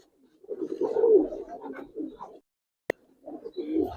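Giribaz pigeons cooing close by, with low, throaty phrases in two bursts separated by a short gap and a single sharp click.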